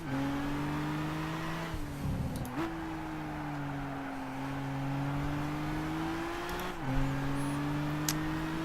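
Race car engine in the Gran Turismo video game, a steady droning whine that climbs in pitch through the gears with brief dips at each shift, heard alone at moderate level.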